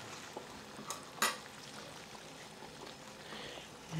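Yao choy stir-frying in vegetable oil for a Cantonese meal, a soft steady sizzle with a few brief clinks of a utensil against the pan and a louder scrape near the start.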